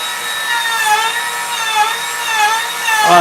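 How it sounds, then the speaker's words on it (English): A Bosch battery-powered router carving a wooden walleye fishing sign gives a steady, high-pitched whine with a wavering tone, continuous and close for the whole stretch, with a brief shift in pitch at the very end. "that's the new Bosch router and battery"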